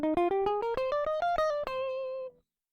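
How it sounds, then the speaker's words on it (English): A minor scale played note by note on a melodic instrument, eight or so evenly spaced ascending tones with a final note left ringing, then silence; no voices. "The minor scale in the same place sounds like this."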